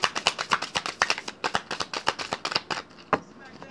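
A deck of romance angels oracle cards is shuffled in quick rhythmic riffles, a rapid run of crisp flapping card bursts close to the listener that slows near the end.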